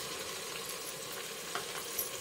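Onion and spice paste frying in a pan for a dalcha, a soft continuous sizzle with faint stirring scrapes, steady and fairly quiet throughout, no voices.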